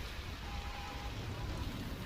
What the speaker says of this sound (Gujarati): આજે વહેલી સવારથી નવસારીમાં ધોધમાર વરસાદ વરસી રહ્યો છે